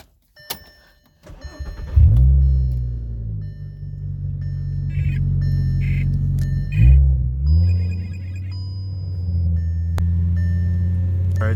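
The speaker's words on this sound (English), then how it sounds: "So we're going to start the car up here in a second." A car engine cranks, catches and settles into a steady idle, with revs briefly rising and falling, as Seafoam is sprayed into the throttle body of the intake manifold; no talk is heard over the close, constant engine drone.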